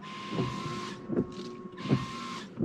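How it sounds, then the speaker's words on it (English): Windscreen wipers on a 2020 Polestar 2 sweep the glass in three evenly spaced strokes, each a soft swish with a faint motor hum, quiet and close with no one talking. "And then again, if I do the wipers,"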